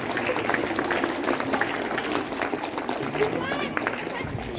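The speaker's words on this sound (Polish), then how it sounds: "Brawa, brawa dla zwycięzcy państwa" A crowd applauds the winner at a youth football tournament prize ceremony in Łuków, Poland, with dense, continuous clapping under a voice.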